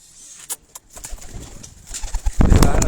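Pigeons coo nearby in soft, low calls. Wing flaps and a louder burst of fluttering rise toward the end.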